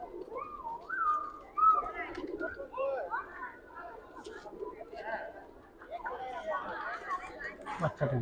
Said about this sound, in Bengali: অনেক কবুতর এখানে, হাজার হাজার কবুতর।